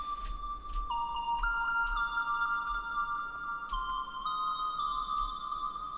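A synthwave whistle lead with heavy reverb plays a simple high melody of a few notes, panned from one ear to the other, faint and airy over a soft low pulse, with no voices.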